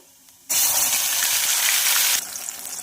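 Gravy pours in a continuous splashing gush onto fried dry spices in a pan for a chana bhaji, loud and close for about two seconds, then settles to a quieter sizzle.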